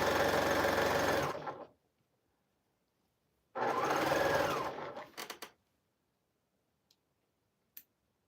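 A sewing machine sewing quilt scraps runs in two bursts of steady whirring stitching, the second trailing off into scattered clicks, with quiet gaps and a sharp tick near the end.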